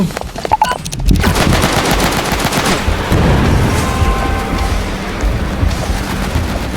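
Rapid automatic gunfire from the Roblox shooter Hyper Shot rattles in loud, dense bursts. A few scattered shots at the start give way to near-continuous firing for several seconds.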